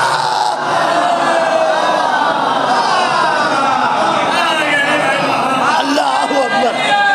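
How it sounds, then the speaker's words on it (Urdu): A dense crowd at a religious majlis gathering chants slogans together, a loud, continuous mass of voices filling the whole stretch with rising and falling shouts. "اب سمجھے بزرگوں نے مجلس میں نعرے کیوں لگوائے؟ حسین زندہ باد، یزید مردہ"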